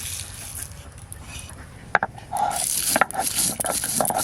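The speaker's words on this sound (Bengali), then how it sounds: "ভাজা মশলাটা গুঁড়ো করে নেব।" Roasted spices, black pepper and cumin among them, are ground by hand in a kitchen, giving rough scraping and grinding strokes with a few sharp knocks, close and moderately loud.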